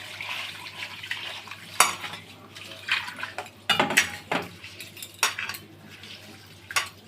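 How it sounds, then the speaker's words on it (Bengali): One kilogram of chinigura rice for chicken biryani is swished and rinsed in water in a pot, with faint sloshing and scattered light clinks, quiet and close, without talk. "চালটা ভালোভাবে ধুয়ে নিব"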